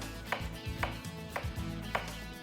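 A kitchen knife chopping onion on a cutting board gives four crisp, evenly spaced cuts over a low, steady hum, close and fairly quiet, with no voices.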